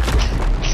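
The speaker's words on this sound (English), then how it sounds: "That was a big explosion. That was a Mega Keg" Huge booming blast of a Mega Keg exploding in a pirate video game, a loud, deep, sustained rumble filling the whole short moment.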